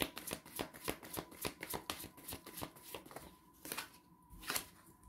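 Tarot cards are shuffled and drawn by hand, a rapid run of crisp riffling slaps in an even rhythm, close and clear, with a few louder snaps toward the end.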